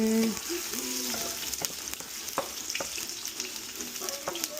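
Ginger hits a hot pan with coconut-milk cooking underway, setting off a bright sizzle with crisp pops and the clack of a utensil stirring, while a faint voice murmurs at the start.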